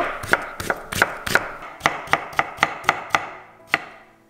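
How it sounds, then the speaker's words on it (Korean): A knife julienning a freshly picked round zucchini on a cutting board gives about a dozen crisp, close knocks in a steady rhythm, briefly pausing midway and then slowing to a final stroke. "고명으로 올리고 싶은 만큼 채를 쳐주고요"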